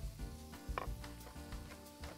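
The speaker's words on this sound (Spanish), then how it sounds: "Vamos añadiendo para que se vaya friendo bien el tomate." Peeled tomato quarters and slices frying in a pan for stewed lentils with lamb, giving a faint sizzle broken by a few sharp clinks and stirring knocks of utensil against pan, with no talk.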